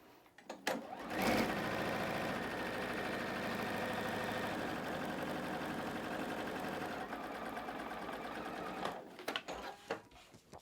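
Sewing machine stitching solid fabric rectangles onto a patchwork quilt block, a steady close whirring run of about eight seconds after a few short starts, ending with brief stops and clicks.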